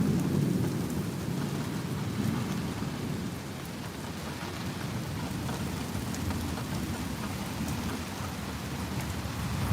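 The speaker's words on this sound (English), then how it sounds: "A lot of thunder, wow." Heavy rain pours steadily while deep thunder rumbles and rolls beneath it, a sustained storm with no voices.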